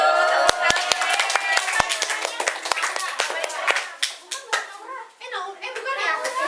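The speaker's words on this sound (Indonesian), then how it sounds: "Tepuk tangan." Children clap together in a classroom religious lesson, a burst of sharp hand claps starting loose and quickening into a ragged run, while kids' voices chatter and call out over and after the clapping.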